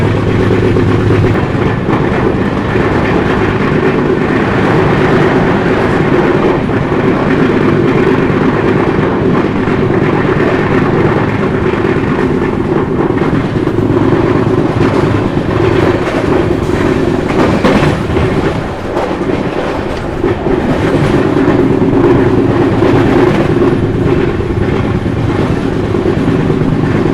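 The 20806 Andhra Pradesh SF Express running from New Delhi toward Visakhapatnam, heard from aboard as a loud, unbroken rumble and rattle of the train in motion, steady throughout with no talk.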